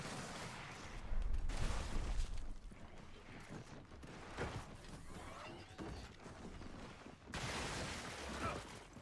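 Teammates firing in a Gears match, scattered gunshots and rattling bursts at moderate distance, irregular and mixed with mechanical clatter and game effects.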